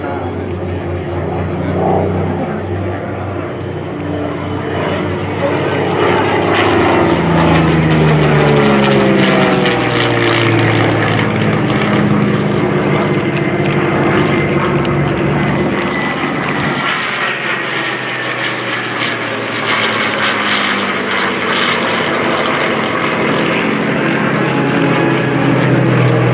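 A Messerschmitt Bf 109 propeller warbird roars past at an air show over the beach, its loud engine drone swelling and shifting pitch as it flies by and fades slightly, steady throughout.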